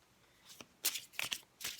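Tarot cards shuffled by hand in a few quick riffling bursts, close and crisp with short pauses between them and no talk.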